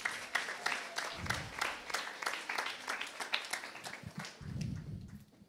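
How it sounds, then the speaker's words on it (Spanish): An audience breaks into scattered applause in a religious youth gathering, with bursts of clapping that rise and fall unevenly, mixed with some background voices and taps across a few seconds. "Un aplauso para ella."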